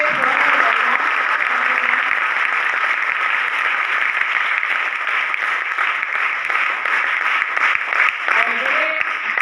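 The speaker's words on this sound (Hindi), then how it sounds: "सबसे पहले जोरदार तालियों से आज के इस कार्यक्रम के उद्देश्य के लिए ताली बजाएं" Loud, sustained audience clapping fills a hall at a ceremony honouring Indian Army soldiers of the 1971 war victory. The applause stays dense and even throughout, with faint voices near the start and end.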